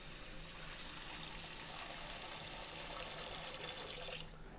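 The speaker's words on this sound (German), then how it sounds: "Deswegen jetzt hier die Form nehmen, machen wir hier kaltes Wasser rein" Cold water from a tap runs steadily into a casserole dish in a kitchen sink, a continuous splashing hiss heard close up on its own, easing off at the very end.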